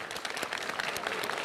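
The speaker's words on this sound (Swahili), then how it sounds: "Naomba tupige makofi mengi sana." Applause from an audience at a public project-launch event, dense steady clapping filling the whole moment at close range.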